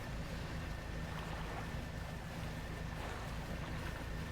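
Small boat engines in the video game Dredge whir in a steady, continuous drone with a faint tonal hum, heard alone without talk.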